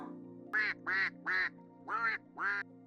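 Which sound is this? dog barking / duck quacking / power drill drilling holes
duck quacking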